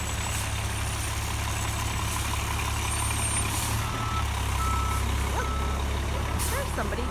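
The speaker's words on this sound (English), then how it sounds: "And the bus actually is pulling over." A city bus pulls over at a street stop in Riverdale, its heavy engine rumbling low and steady as the deep drone shifts partway through, under faint traffic and background voices.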